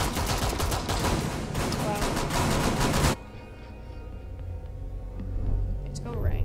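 Pistol gunfire in Rainbow Six Siege: dense, loud bursts of rapid shots fill the first three seconds, then cut off abruptly into a quieter game background with faint scattered noises.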